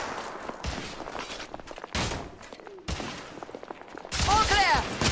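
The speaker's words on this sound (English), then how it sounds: "Igraine, lay down suppressive fire!" Suppressive gunfire in the video game The Order 1886, with heavy bursts of shots arriving in several loud clusters separated by short gaps and some voices mixed in.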